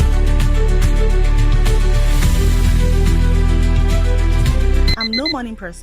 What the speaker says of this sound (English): So when my alarm goes off